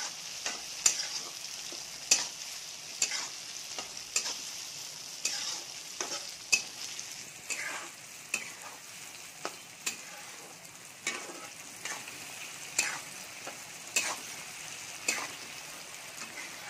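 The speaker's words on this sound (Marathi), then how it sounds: "आता आपण याच्यामध्ये काजू टाकून घेऊया आणि आपण चांगला मसाला फ्राय करून घेणार आहोत" Masala with cashews fries in a pan, a soft steady sizzle broken by regular scraping stir strokes roughly every second, close and fairly quiet, with no voices.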